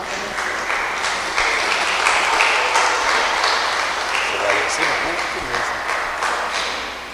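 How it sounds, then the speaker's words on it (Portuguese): Church congregation applauding a deacon in a Portuguese-speaking service, a steady, full wash of handclaps from many people in the room lasting throughout, with a voice faintly heard beneath. "E você pode recebê-lo com um aplauso para o Senhor Jesus."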